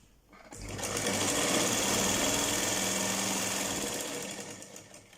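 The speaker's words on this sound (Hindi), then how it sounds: "यहाँ से अब हम इसमें एक बीच की सिलाई लगाएंगे" Sewing machine stitching the center seam of ladies' trousers, a loud continuous motor whir that starts after a brief pause and runs steadily for several seconds before easing off slightly at the end.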